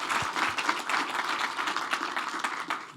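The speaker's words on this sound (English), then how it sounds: "Everyone give a warm round of applause to Tyson Garrett." Listeners at a security talk give a speaker a brief, continuous wash of applause, even and fairly close, with no speech over it.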